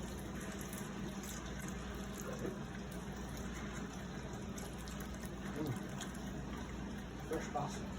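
Milk from a local creamery poured into a pot for buffalo mac and cheese, a soft continuous liquid splashing and trickling heard faintly, with a person speaking over it.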